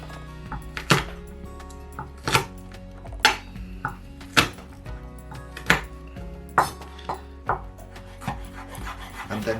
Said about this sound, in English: What I'm going to do is just give it a good bash